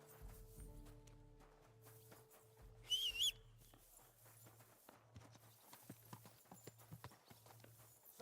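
Horse hooves clip-clop at a steady walking pace in the medieval video game Kingdom Come: Deliverance 2, soft and close, joined briefly by a whistle and quiet ambient sounds.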